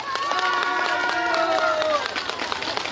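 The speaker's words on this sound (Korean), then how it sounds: "우리 뜨거운 박수 한번 부탁드립니다." Crowd applause and cheering at a political party speech, mixed with music playing over it, a steady busy wash of sound throughout.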